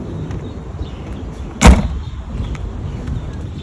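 A car door on a 2012 Volkswagen MK6 Golf R shuts once with a single solid thump partway through, over a low steady background hum.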